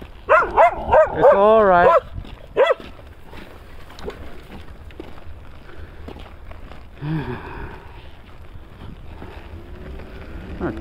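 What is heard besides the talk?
dog barking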